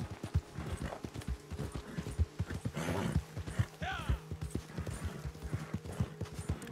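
A horse in the video game Red Dead Online clopping along at a steady walking rhythm, each hoof strike crisp and close, with soft game ambience and a brief whoosh partway through.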